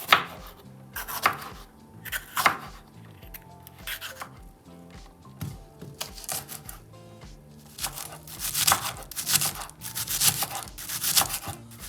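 A knife chops Scotch bonnet peppers on a board in bursts of quick, close, crisp strikes separated by short pauses, the pace growing busier toward the end.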